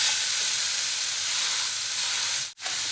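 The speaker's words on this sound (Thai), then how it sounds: "ตั้งกระทะอีกอันนึงค่ะ สำหรับขนมปังนะคะ ก็ทอดให้มันได้กลิ่นเกรียมอะค่ะ" Bread fries in a pan with a steady, bright sizzle and hiss that holds loud and even throughout, cutting out for a brief moment near the end.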